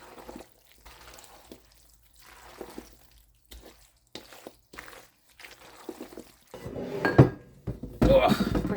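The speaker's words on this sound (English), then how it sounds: "You're going to get a big spoon and you're going to give this all a nice mix." A big spoon stirs pasta, veggies, cheese and sauce in a bowl, giving soft scraping, clinking and wet squelching that turn louder and denser toward the end, with a voice talking at times.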